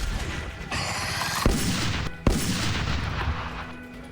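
Gunfire in the VR game Trails of Alterna: two sharp, loud shots crack out over a steady roaring background, spaced under a second apart, with no talking.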